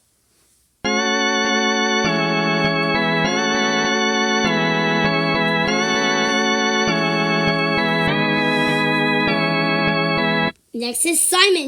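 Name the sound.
Sprunki character Mr. Tree's sound from a video game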